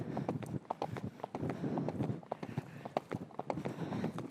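Hoofbeats of a young horse cantering during a ride, a quick, rhythmic run of clopping strikes repeating steadily and close, with no talk over them.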